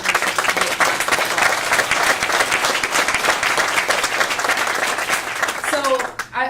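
Loud, sustained applause and clapping from an audience at a launch event for an AI job-matching project in Washington, D.C., filling the room evenly before tapering off at the end, with a voice starting to speak over the last moment.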